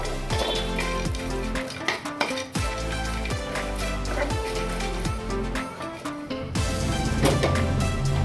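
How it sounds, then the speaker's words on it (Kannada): Pumpkin seeds and fenugreek dry-roasting in a pan, a continuous dense rattle and scrape as they are stirred, with clinks of a utensil against the pan throughout. "ಕುಂಬಳಕಾಯಿ ಬೀಜ ಆಯಿತು ಹೊತ್ತಿದ್ದು."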